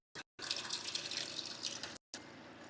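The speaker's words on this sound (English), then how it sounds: "Just gonna add some coconut water" Coconut water pours steadily into a cup with a bright splashing trickle, broken by brief pauses, close and fairly quiet.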